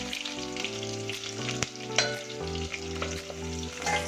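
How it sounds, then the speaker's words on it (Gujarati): Long-sliced medium onion frying for vegetable pulao, a steady sizzle with stirring scrapes and a few sharp clinks of a utensil against the pan, close and fairly loud with no talk. "ડુંગળીને થોડી આપણે ગોલ્ડન થવા દેવાની છે થોડી આમાં ગોલ્ડન એનો કલર પકડાય અને થોડી સોફ્ટ થાય ત્યાં સુધી હલાવીશું"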